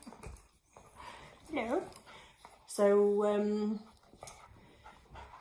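Dog panting and whimpering close by, with a high, whining cry in the middle, mixed with a person talking.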